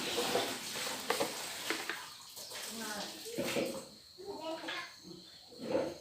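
Shellfish curry stirs and fries in a hot pan, giving a soft crackling sizzle with uneven scraping strokes. People talk close by over the cooking.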